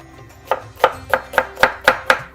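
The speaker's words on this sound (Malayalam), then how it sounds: "സവാള ഒന്ന് ചെറുതായിട്ട് അരിഞ്ഞെടുക്കാം" Onion being chopped finely on a cutting board, seven steady knife strikes at an even pace, close and clear with no talking.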